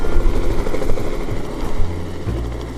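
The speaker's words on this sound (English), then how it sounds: "The helicopter." A helicopter lifts away after a trout-stocking run with fish buckets, its rotor chop and low engine rumble loud and close, then easing slightly as it departs, with no talking.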